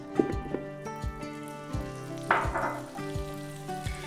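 Butter sizzles and pops in the inner pot of a Ninja Foodi, a steady close frying crackle with a few soft taps and one louder burst of spatter partway through.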